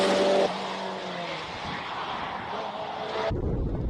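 A 2-litre, 16-valve, all-wheel-drive Mitsubishi Evo 9 race car roars loud and close at a Cape Town hillclimb, its engine note held steady before cutting off abruptly near the end.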